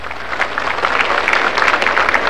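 Loud crowd applause fills the hall at a Bolivian community event in Cochabamba, dense steady clapping from many people throughout.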